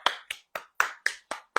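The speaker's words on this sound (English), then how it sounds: "Let's clap a hand." Seven sharp hand claps, close and crisp, each with a short decaying tail, spaced at a steady, slightly uneven pace of roughly four per second, with no talking.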